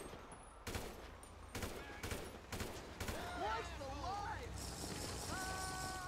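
Bursts of game gunfire in GTA, sharp repeated shots in loose clusters with some automatic fire, mixed with engine and water sounds and a voice talking over the action.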